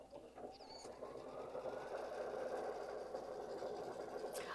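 An embroidery sewing machine stitches a design, its needle running in a steady, fast, continuous mechanical whir that stays close and loud throughout with no one talking.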